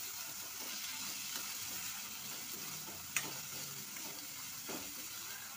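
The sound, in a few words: garlic and washed moong dal added to frying pan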